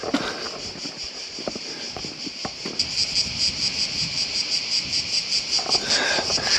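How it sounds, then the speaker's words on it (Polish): Cicadas drone loudly and continuously near the fortress walls of Ston, a high buzzing chorus that swells after a few seconds, with footsteps and faint wind at the start. "tu wszędzie są te cykady i one strasznie hałasują"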